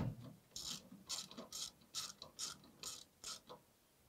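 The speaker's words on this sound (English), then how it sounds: "looks like the easiest way is take these two bolts loose and our filter should come off" A hand ratchet turns the bolts holding the DPF filter on a 2011 Isuzu NQR truck, giving eight or so evenly spaced bursts of sharp metallic clicking, close up with no talk.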